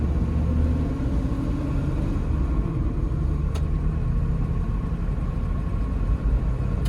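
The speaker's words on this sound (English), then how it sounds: "Okay, my foot's off the brake, and now onto the gas pedal." A 1964 Oldsmobile Jetfire engine heard from inside the car, a low, steady rumble with a faint rise as the gas pedal is pressed; quiet and smooth throughout.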